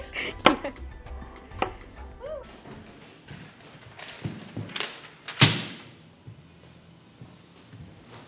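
Knife chopping food on a board in a kitchen, a handful of sharp, irregular thuds and knocks, close and loud, with quiet rustling and a few brief voices between strikes.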